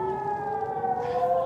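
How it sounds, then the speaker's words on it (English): Air raid sirens wailing across Jerusalem, a steady loud tone with a slowly rising pitch and layered harmonics, continuous and unbroken, with no voices. "air raid sirens have started sounding all over Jerusalem"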